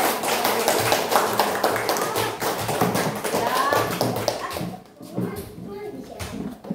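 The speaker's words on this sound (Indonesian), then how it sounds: "tepuk tangan dulu" Students in a classroom clap their hands in a lively round of applause, dense rapid claps with voices mixed in, fading briefly near the end before a few more claps.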